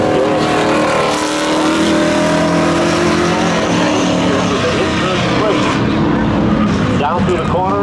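Pickup truck and other vehicles launching in a spectator drag race at Seekonk Speedway, loud engines roaring and revving up under an announcer's excited commentary, with gear-change rises near the end.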